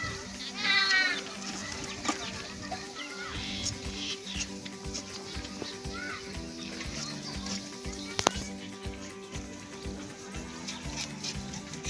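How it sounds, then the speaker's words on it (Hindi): Goats on a village goat farm bleat a few times at moderate distance, with the loudest cry near the start, over a busy outdoor background with rhythmic clatter. "हमारे पे 10 बकरी हैं।"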